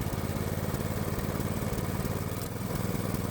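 212 Predator small engine idling during carburetor mixture adjustment, a close, loud, fast steady putter with rapid regular firing pulses and a slight dip in pace near the end.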